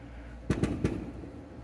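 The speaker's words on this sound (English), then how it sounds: "They're really having fun with their fireworks." Fireworks going off outdoors in June: three sharp, fairly faint bursts in quick succession, heard at a distance over a quiet indoor background.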